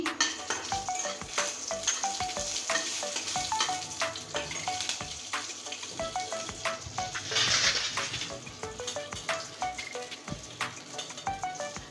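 A bay leaf and a dried chili sizzle in hot mustard oil for chicken curry, a busy crackle of rapid spitting pops with stirring scrapes throughout.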